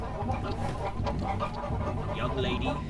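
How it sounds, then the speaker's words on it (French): Chickens cluck in the background of a cutscene in the Baten Kaitos video game, set in a village, a steady busy clucking layered with game ambience and music at moderate level throughout. "C'est juste les poulets derrière quoi, c'est spécial comme cinématique je trouve."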